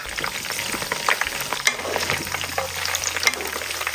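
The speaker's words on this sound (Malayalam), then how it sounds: "ഈ ഒരു സമയം നമുക്ക് ഇതിലേക്ക് കുറച്ച് കറിവേപ്പില ഇട്ട് കൊടുക്കാം" Leftover rice and curry leaves fry in hot oil with a dense, close sizzle, crackling pops and stirring scrapes that run on without a break, and no voices.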